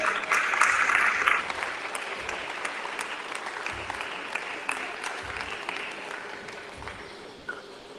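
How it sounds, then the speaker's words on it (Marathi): Burst of audience applause at a Women's Day felicitation ceremony for women police officers, loudest in the first second and a half, then thinning into scattered clapping that fades over several seconds. "जोरदार टाळ्या झाल्या पाहिजे"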